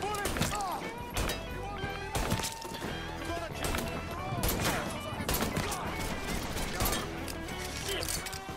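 Rapid bursts of gunfire in a Mafia 3 mission, with repeated sharp shots and volleys in close succession, mixed with excited talking.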